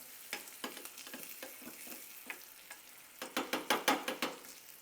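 Curry leaves and a pinch of turmeric temper in hot oil in a pan, giving soft sizzling with scattered crackles and pops that grow into a quick burst of sharp spitting near the end.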